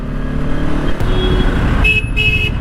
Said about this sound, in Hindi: कभी कभी कितना सही साउंड लगता है बाइक का, एकदम सुपर बाइक माफिक कर दिया